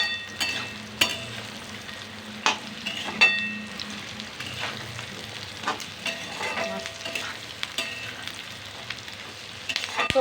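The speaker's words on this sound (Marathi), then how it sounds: "भाज्यांमध्ये छान असं हलवून घ्यायचं" Fried soybean chunks tossed through vegetables in a sizzling pan: constant frying hiss with repeated spatula scrapes and knocks against the metal at an uneven pace, close and fairly loud, with no voices.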